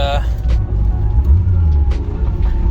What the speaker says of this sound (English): the car tries to accelerate now